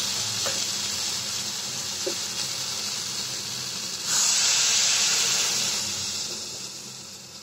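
Spices for an okra and rohu fish curry hiss in a pan, then a splash of water sets off a louder burst of steam and sizzle that fades slowly, with a couple of faint utensil taps.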